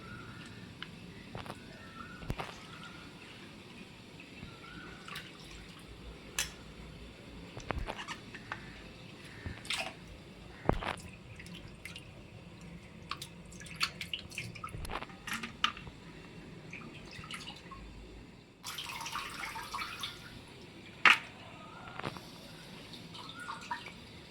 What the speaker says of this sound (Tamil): மட்டனை வந்து ஒரு 2-3 தண்ணி ஊற்றி வாஷ் பண்ணி எடுத்துக்கோங்க.